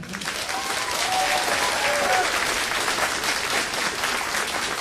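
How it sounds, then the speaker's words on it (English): Applause fills a school fine arts night auditorium, a thick, continuous clapping from a large audience at even strength, with a few faint voices calling out over it. "Round of applause for Mr."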